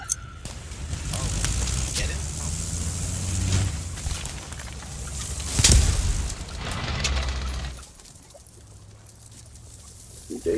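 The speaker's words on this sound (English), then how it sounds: "I got it, I'm throwing a grenade on it." Grenade blast in the World War II shooter Post Scriptum, a single loud broadband burst midway through ongoing rumbling battle noise and distant gunfire, followed by a quieter stretch.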